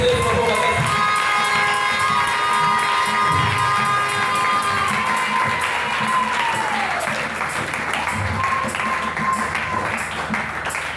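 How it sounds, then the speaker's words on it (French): A church congregation cheers and acclaims loudly, a dense crowd roar of shouts and high voices with clapping mixed in, sustained throughout and fading slightly toward the end. "Acclamez le Seigneur Jésus-Christ."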